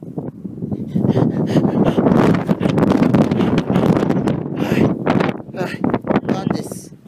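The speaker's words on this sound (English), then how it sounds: "Oh my gosh, it's so windy" Strong wind buffets the microphone in loud, continuous roaring gusts, with a voice speaking underneath.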